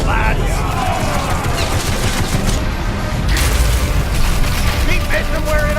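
Cannon fire in a pirate ship sea battle in the VR game BattleWake, with heavy booms layered over a continuous roaring din. The bombardment is loud and sustained throughout.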